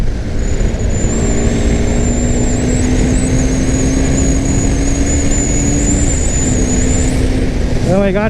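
A 2021 KTM Duke 390 BS6 motorcycle engine running hard at high speed in fifth gear, a loud sustained drone with a steady pitch that dips slightly near the end, with a rider's brief exclamation over it.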